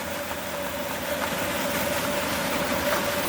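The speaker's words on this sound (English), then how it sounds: "Sorry about the noise of that aerator in the background." A pond aerator hums steadily in the background at a lakeside overnight fishing camp, a continuous mechanical drone with a faint tonal whine, constant in level throughout.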